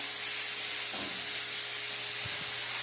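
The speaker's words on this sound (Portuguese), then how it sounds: "A partir da fritura desse alho e dessa cebola" Constant sizzling hiss of garlic and onion frying in a hot pan, steady and close, with a few soft clinks.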